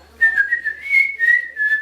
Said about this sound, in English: I can whistle like a little lovebird.